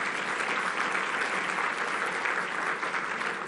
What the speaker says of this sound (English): Go ahead and clap if you want.